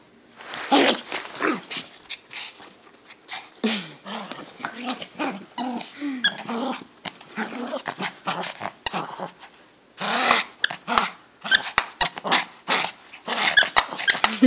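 A dog growls and whimpers in close, irregular bursts of grumbling growls mixed with whiny yelps, some sharper vocal spikes and brief pauses between outbursts.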